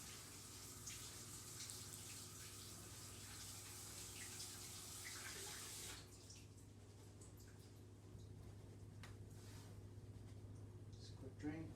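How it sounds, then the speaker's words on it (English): Canned corn drained and rinsed in a kitchen sink under running tap water, a soft continuous splashing stream that stops about halfway, followed by quieter clatter and drips, faint overall. "So this is just some canned corn that I'm going to drain and wash."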